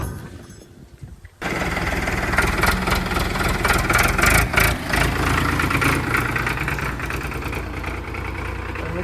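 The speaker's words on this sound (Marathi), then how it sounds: "आमचं ट्रॅक्टर आता चालू होऊन गेलं नाही का." A farm tractor's diesel engine starts abruptly after a quiet moment and settles into a loud, close, steady running rumble with a slight wavering throb, heard alone.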